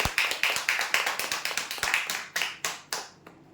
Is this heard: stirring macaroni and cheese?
no